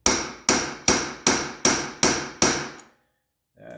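A hammer drives a part into a Honda XR75 motorcycle during a rebuild, seven evenly spaced loud metallic blows with ringing decay, then silence and a faint brief sound at the end.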